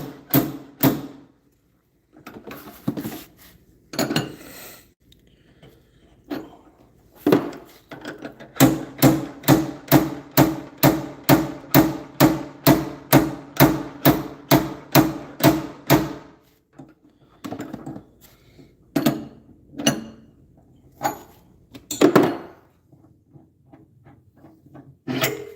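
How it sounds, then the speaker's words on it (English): A slide hammer working a stuck part loose in a garage, delivering a long run of sharp metallic impacts in steady rhythm, about twenty blows, with scattered knocks and handling clanks before and after. "So this one we're going to use the actual slide hammer"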